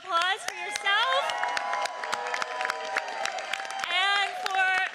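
A crowd at a congestion pricing coalition event cheers and claps continuously, with loud whoops and shouts riding over steady applause throughout.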